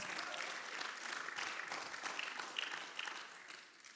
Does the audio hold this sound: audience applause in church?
yes